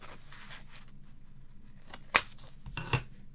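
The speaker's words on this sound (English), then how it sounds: "Let me just cut that in half." Scissors cut a sheet of paper in half while making a homemade address book. Two sharp, crisp snips stand out, about a second apart, over a quiet room background.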